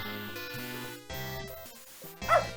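A dog barks and whimpers in a few short bursts in the point-and-click game Beneath a Steel Sky, set against sustained game music.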